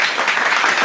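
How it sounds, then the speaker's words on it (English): Dense audience clapping fills the room steadily and loudly throughout, a continuous wash of many hands with no voices standing out. "I don't know where this clapping sounds is coming from"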